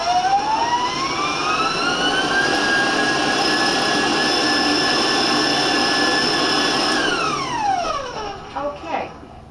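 Electric stand mixer whipping egg whites with sugar for a chocolate chiffon cake, a loud steady whirring motor whine that rises in pitch as it speeds up, holds for several seconds, then winds down and stops.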